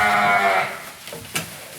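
Sheep bleat on a farm with a greenhouse, one loud, drawn-out bleat up close followed by softer scattered animal sounds, with no one talking.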